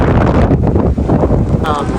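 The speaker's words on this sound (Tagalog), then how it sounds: "Grabing lakas ng hangin mga kabayan" Strong wind gusting across an open, snow-covered area in Greenland, a loud steady roar of buffeting microphone wind filling the whole clip with no pause.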